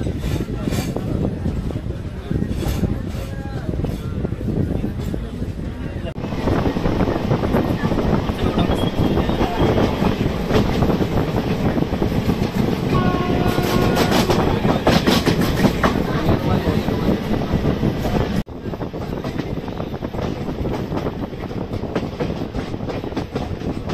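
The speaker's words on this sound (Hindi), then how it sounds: "खैर ट्रेन हमारी यहाँ से ऑन टाइम निकल चुकी है।" The Pinakini SF Express, running from Vijayawada to Chennai Central, rolls along after leaving a station, recorded from on board: a steady heavy rumble with rhythmic wheel clatter and some wind noise, growing louder midway, then easing.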